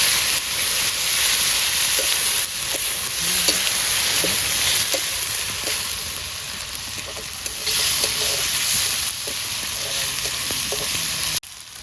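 Spice masala with chopped tomato fries in a pan, sizzling and hissing continuously, with repeated scrapes and clacks of stirring, close and loud, and no talk.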